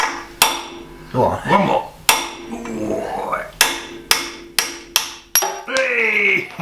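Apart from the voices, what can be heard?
hammering on a tractor axle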